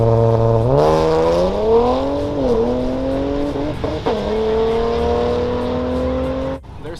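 Cars launch down a quarter-mile drag strip, a loud engine roaring close by and climbing through gears in rising sweeps with a brief tire chirp, then fading out abruptly at the end.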